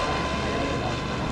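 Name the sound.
Goblin 700 RC helicopter high-speed pass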